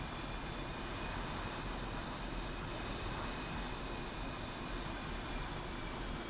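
Su-25 jet engine in a flight simulator game, throttled up to taxi, a loud steady roar and hiss with a faint high whine, continuous and unbroken, with no talk.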